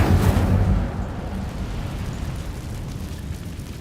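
A fire spell cast in the Hogwarts Legacy video game opens as a loud, booming burst and fades into a steady low rumbling roar that lasts several seconds, with no talking.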